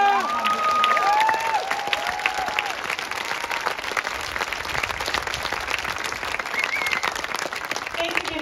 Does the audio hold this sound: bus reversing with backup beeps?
no